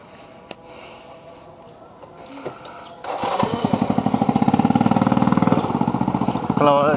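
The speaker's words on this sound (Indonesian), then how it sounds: "Kalau knalpot saya berisik banget" A loud, rough motorcycle exhaust on a delivery rider's bike suddenly roars up after quieter background noise, pulsing steadily close by for several seconds.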